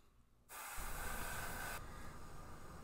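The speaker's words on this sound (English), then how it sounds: "I'm gonna spray it along the lower portion of the fish" Airbrush spraying aluminum metallic paint onto a white crappie fishing lure: a quiet hiss starts abruptly after a short pause and continues as a steady, close airy spray to the end.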